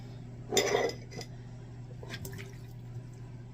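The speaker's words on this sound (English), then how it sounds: "I drained them, and I'm going to put them in my bowl" Drained canned green beans and ham slide into a bowl in a wet, clattering rush, followed by a few faint taps and drips in a quiet kitchen.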